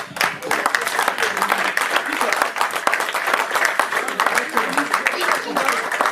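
A church congregation at a pastor's fiftieth anniversary celebration claps and cheers, a lively, uneven mass of clapping with shouted acclaim and voices mixed in, rising and dipping across the stretch.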